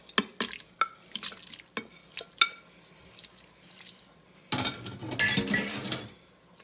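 Beef and its juices go back into an Instant Pot pressure cooker with sharp utensil clinks and drips against the metal pot, followed by a louder wet slosh and scrape as the meat slides in.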